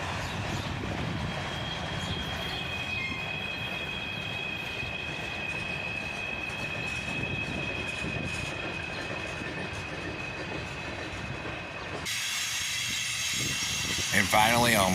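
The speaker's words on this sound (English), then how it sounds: "the tail end of this train goes by" The tail end of a long CSX and Union Pacific freight train rolls past close by, steady wheel rumble and clickety-clack with a high squealing tone, then the sound shifts abruptly as the last cars pass; a voice speaks briefly.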